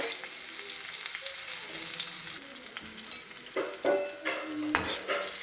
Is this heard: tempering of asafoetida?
yes